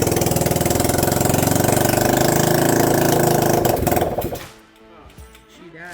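A cheap pull-start quad engine running at a high, fast idle, a loud steady chugging that cuts off after about four seconds, followed by quiet with faint voices.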